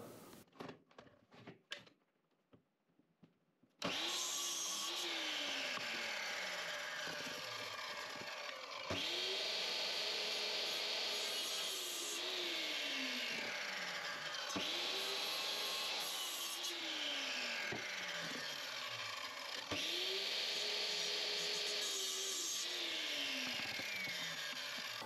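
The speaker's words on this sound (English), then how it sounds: "cutting them at 45 degrees on the miter saw" A miter saw cuts wooden trim at 45 degrees, a loud near whine from the spinning blade rising as it bites through the wood, repeated in several cuts after a few quiet handling knocks.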